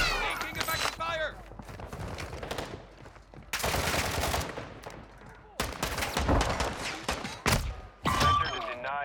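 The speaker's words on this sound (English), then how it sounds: "Some shooting." Loud bursts of automatic gunfire in Call of Duty DMZ, several rapid volleys separated by short pauses, some close and sharp, with muffled voices in between.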